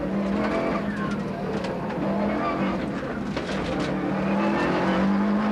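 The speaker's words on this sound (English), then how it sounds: "Fisher in the Tough Max Subaru is second fastest on stages 1 and 2" A Subaru rally car driven by Fisher on a stage of the 1992 Circuit of Ireland Rally gives a steady, loud engine roar with shifting pitch across the whole stretch, heard from fairly close with no pauses.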